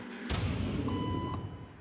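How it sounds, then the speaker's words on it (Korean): A bell rings in a quiet indoor room during a social experiment, a sudden onset followed by a sustained ringing tone with a thin steady pitch that fades after about a second. "벨이 울립니다."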